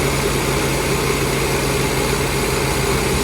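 Classic car engine held at about 2,000 rpm while its carburettor is being tuned, giving a steady, loud, even drone that stays constant throughout with no voices.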